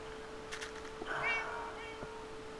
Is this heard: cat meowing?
yes